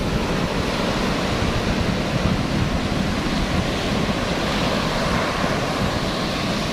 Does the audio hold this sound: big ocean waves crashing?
yes